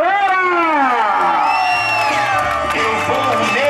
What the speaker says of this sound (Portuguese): palmas pra galera!